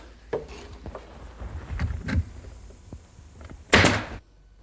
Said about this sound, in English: I secure them in place with a couple brads